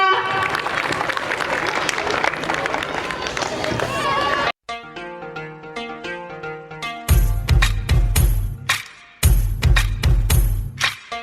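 Audience at a school International Women's Day program claps steadily for about four seconds, then the clapping cuts off and a performance's music starts, with melodic notes followed by heavy beats.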